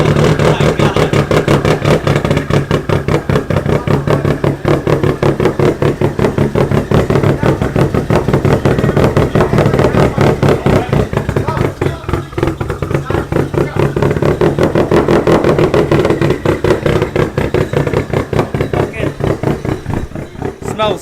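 A Subaru STI fitted with a new Tomei exhaust idles loudly after a cold start, its deep, throbbing burble pulsing steadily and close, with people talking over it.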